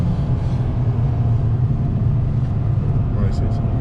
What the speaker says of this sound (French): le moteur chante plus fort.